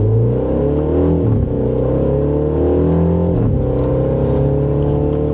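A 2026 Mini JCW Countryman engine revs up hard from first gear in JCW mode and climbs steadily in pitch, dips briefly at a gear change, then keeps pulling loudly.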